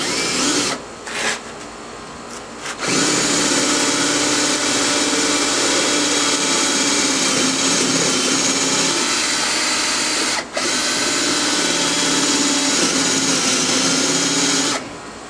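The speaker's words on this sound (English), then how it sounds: "start drilling." A power drill with a paddle bit whines steadily at high speed, boring through wood in one long continuous run after a brief start and stop.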